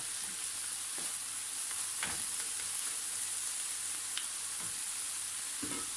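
Tomato coulis sauce simmering and sizzling in a pan, a steady faint hiss with occasional soft scrapes and clicks of stirring, close and without talk.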